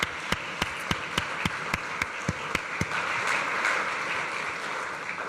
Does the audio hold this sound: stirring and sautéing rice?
no